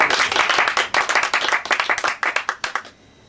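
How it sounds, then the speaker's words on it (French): A theatre audience at Le Bout in Paris claps for the evening's guests. The dense applause thins into separate, rhythmic claps before stopping abruptly near the end. "Je vous demande s'il vous plaît d'applaudir mes invités ce soir"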